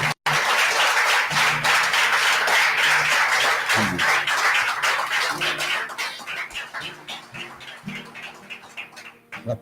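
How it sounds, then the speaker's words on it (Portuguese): A church congregation at a Sunday morning communion service bursts into loud, sustained applause for about eight seconds, dense clapping filling the room before gradually thinning and fading out. "Um aplauso a Jesus."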